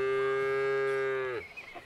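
A cow in the farming game Farmer's Life gives a single long, clear moo up close, steady and sustained before dropping off sharply into quiet.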